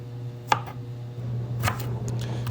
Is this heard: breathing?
no